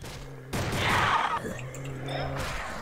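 Gunfire in a Roblox zombie game set in a school, with a couple of sharp, moderately loud shots separated by game tones and background noise.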